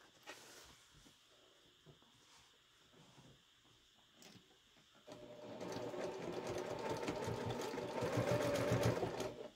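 A sewing machine stitches the enclosed edge of a quilted fabric triangle pouch with soft-and-stable foam interfacing. It starts with soft, sparse handling sounds, then settles into a steady, close, loud mechanical whir for the second half.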